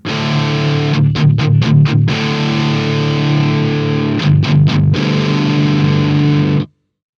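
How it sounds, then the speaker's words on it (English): Electric guitar played through The King amp sim with light overdrive: sustained distorted chords, broken at about one and four seconds by bursts of quick picked strums, then ringing out before an abrupt cut to silence. "you can hear there's just a touch of overdrive or saturation there"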